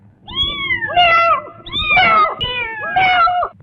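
A voice mimics a cat, giving three drawn-out, whiny meows close up with short pauses between them.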